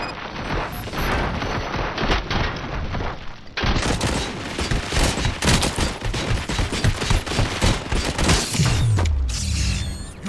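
Sustained gunfire in the RoboCop: Rogue City video game, loud dense bursts of shots with mechanical clatter running almost continuously, a brief lull near the middle, with no talking.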